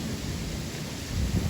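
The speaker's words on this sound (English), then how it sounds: "We're getting a little bit more rain than I kind of expected." Rain storm in Texas, with a steady broadband wash of rainfall and low rumbling throughout, swelling slightly louder near the end; no one speaks.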